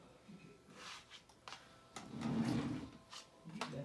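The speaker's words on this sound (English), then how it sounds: "I'm digging in the drawer looking for something" A drawer is pulled open and rummaged through at home, giving a series of quiet sliding scrapes, knocks and shuffling rattles in uneven bursts, with a louder rustling stretch in the middle and no talking.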